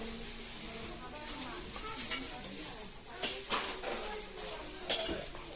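Plastic plates and bowls handled on a shop shelf, light clacks and knocks, a few sharper taps, over a steady background hum of the store.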